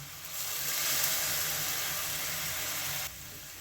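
A yogurt spice mixture with melon seed and cashew paste hits a hot pan, giving a close, strong hissing sizzle that holds steady, then drops abruptly to a softer simmer.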